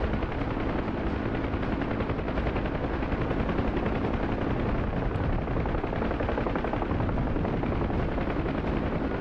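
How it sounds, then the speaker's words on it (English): A military helicopter diving hard to escape a combat threat zone, its rotor and engine a loud, dense, unbroken roar throughout with no voices. "We don't want to completely overspeed the helicopter"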